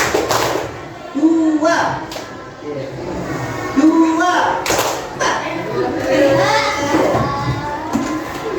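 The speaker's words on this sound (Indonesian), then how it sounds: "Kalau ada tepuknya, berarti kita bertepuk tangan." A class of students clap their hands together in a counting game during an Indonesian lesson, a few sharp group claps and thuds landing among loud, overlapping voices in a classroom.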